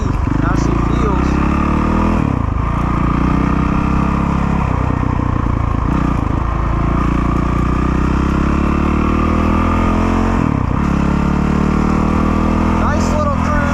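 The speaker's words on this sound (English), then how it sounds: "Big old 450 street legal bike." A Honda CRF450RL street-legal 450 dirt bike engine droning steadily while being ridden, loud and close with slight shifts in pitch, and someone talking over it.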